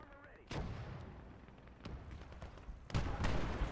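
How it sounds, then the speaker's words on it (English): Panzer IV tank cannon fire in the WWII game Gates of Hell: Ostfront, heavy booming shots, one near 0.5 s and a louder one near 2.9 s, over a constant rumbling battle din. "on return fire as the Panzer IV does some damage to the Lukes here"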